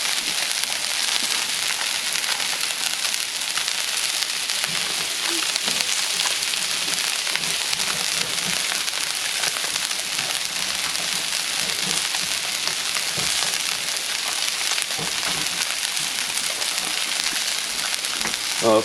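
Teriyaki salmon and vegetables sizzle steadily on a flat-top griddle, a dense, even frying hiss with small crackles running throughout, close and unbroken, with no talking.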